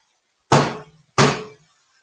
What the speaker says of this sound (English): I always turn them upside down and smack them on the counter.